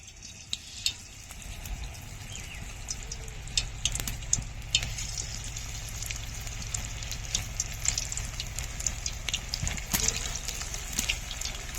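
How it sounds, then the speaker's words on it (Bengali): Kohlrabi pakoras sizzle steadily in hot oil, a continuous crackling hiss with scattered sharper pops, close and moderately loud, with no talking. "তেল গরম হয়ে গেছে আমি এক একটা করে পকোড়া দিয়ে দেবো"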